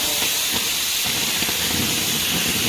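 An acetylene torch cutting metal freehand gives off a steady, loud, roaring hiss that runs unbroken from start to finish.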